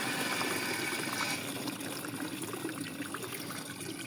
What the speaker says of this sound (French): Donc on remplit, hein, une bouteille de 8 litres.